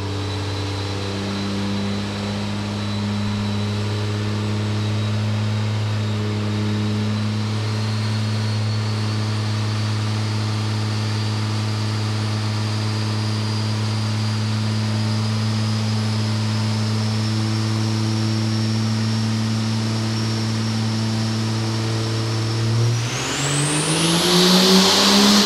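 A race car engine producing around 1155 horsepower on a dyno at the DPC2019 event holds a loud, steady droning pull for a long stretch, then revs sharply upward at the end of the run.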